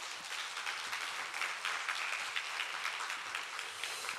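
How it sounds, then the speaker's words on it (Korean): A congregation applauds during an early-morning Korean church worship service, a soft, even patter of many hands clapping steadily for a few seconds. "우리 박수로 환영합니다."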